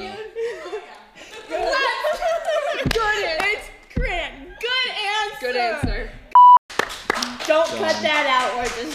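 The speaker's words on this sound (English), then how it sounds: "Don't cut that out, we're just clapping." A few sharp hand claps stand out amid youth chatter and laughter on a church youth podcast, with a short electronic beep near the end.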